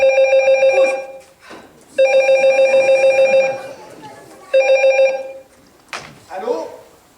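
Telephone bell ringing in a home, three long loud electronic ring bursts with pauses between them, followed by voices talking.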